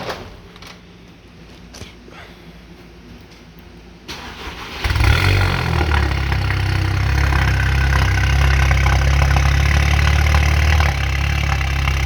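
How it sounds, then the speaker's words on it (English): A Volkswagen MK7 GTI fitted with a 4-inch downpipe cranks and fires after a few quiet seconds, then settles into a loud, steady, low idle rumble that holds close by to the end. "We're gonna just start it up and make sure everything sounds correct."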